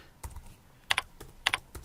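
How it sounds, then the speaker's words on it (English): Typing on a computer keyboard in short bursts, paired and single keystrokes clicking crisply in an uneven rhythm with quiet gaps between. "Type in the occupation that you want."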